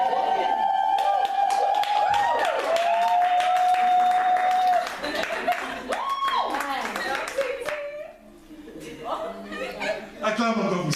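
Church congregation applauding and cheering at a service of the Divine Grace International Christian Center, with a loud voice calling out over the clapping.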